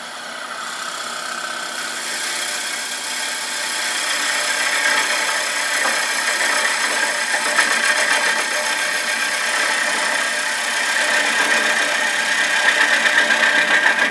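A 3/8 inch C-flute gouge with a steep bevel cutting a Bradford pear bowl on a wood lathe, a steady close hissing scrape over the spinning lathe's hum, growing slightly louder, with no speech.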